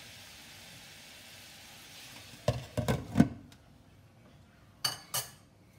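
Minced pork cooking in a pan for a meaty spaghetti sauce: a faint steady sizzle, then a few sharp clinks and scrapes as a utensil stirs the meat, followed by a pause and two more taps.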